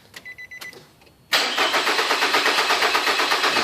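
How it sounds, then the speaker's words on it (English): Nissan Altima with a no-start fault: a faint chime and a few thumps, then the starter cranks loudly in a fast, steady rhythmic churn for over two seconds without the engine catching. "it's gonna crank, but not start"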